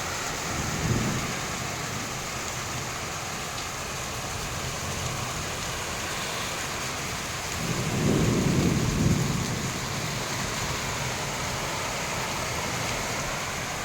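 Steady rain pours on a rainy afternoon, with low rolls of thunder rumbling twice, once briefly near the start and again more heavily later, over a constant wash of falling water.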